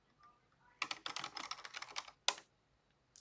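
Rapid keystrokes on a computer keyboard while entering a PowerShell command, a quick burst of close clicking followed by a pause and one sharp final key press, heard alone.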